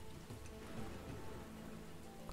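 Rain falls steadily in the video game XING: The Land Beyond, a soft, even patter of drops held at one level for the whole stretch with no voices over it.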